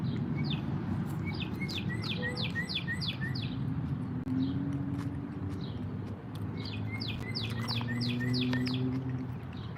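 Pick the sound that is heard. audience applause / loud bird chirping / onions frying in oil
loud bird chirping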